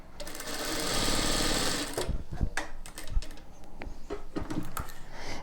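An industrial sewing machine with a 0.75 quarter-inch presser foot stitches patchwork in a loud, fast, even whir for about two seconds, followed by scattered clicks and handling taps as the fabric is moved.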